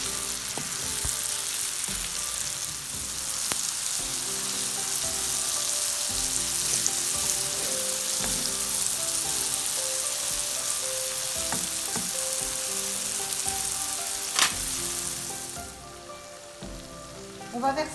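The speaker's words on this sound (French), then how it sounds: "On remue bien pour que les pommes soient bien imprégnées" Apple pieces sizzling in butter in a pan, a steady crackling fry heard up close for a long stretch, with occasional stirring knocks and scrapes, then the hiss drops away near the end.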